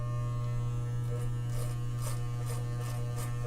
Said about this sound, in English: just kind of shave at that line, and it's going to break it up and blend it in